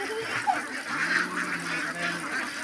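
Farm ducks kept in confinement, a flock of about 1200, honk and quack in a busy overlapping chorus close by, with faint voices underneath.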